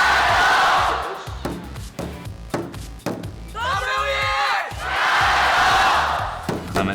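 Passionate esports crowd at the Team WE home stadium in Xi'an cheering in loud, surging waves, with rhythmic chanting and thumping in between, filling the space up close.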